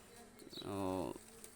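Soft, resonant cooing from Pakistani high flyer pigeons, a single drawn-out call heard close up over a steady background hum.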